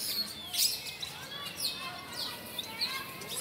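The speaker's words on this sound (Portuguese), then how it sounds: "Passarinho." Many small birds chirping in a town square at dusk as they settle to roost: dense, overlapping high tweets and squeaks throughout, moderately loud, with a voice murmuring underneath.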